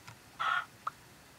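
A short burst of clucking from a Minecraft chicken, followed by a single quick cluck, set against quiet background.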